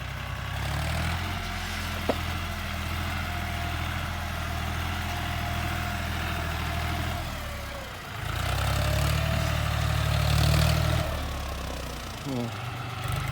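A used John Deere 5045D tractor runs with a steady, close diesel rumble. It rises to a heavier, louder throb partway through, then settles again.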